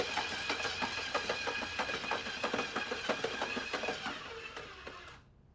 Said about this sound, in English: So you can see now the mixer is really working really hard